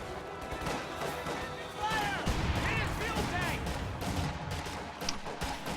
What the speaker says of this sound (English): Volley fire from rear echelon troops over here will suppress those rifle or pioneers, flamethrower pioneers.